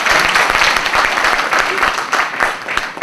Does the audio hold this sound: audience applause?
yes